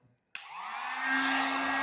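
Harbor Freight Warrior heat gun switching on with a click and then blowing a steady, loud, close airy roar with a faint motor whine while heating a metal raised garden bed.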